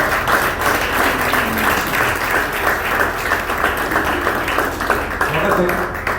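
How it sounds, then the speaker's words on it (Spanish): A church congregation applauds at a Spanish-language sermon, with steady, full clapping from many hands throughout while voices call out and talk over it. "Denle un aplauso al Señor."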